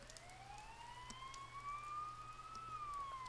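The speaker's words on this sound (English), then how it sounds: "You hear sirens nearby" Police sirens wail in the Persona 4 Golden video game, a slow rising and falling tone at moderate distance over a faint steady hum and light rain-like hiss.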